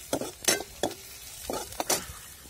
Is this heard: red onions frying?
yes